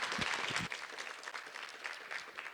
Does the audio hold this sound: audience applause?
yes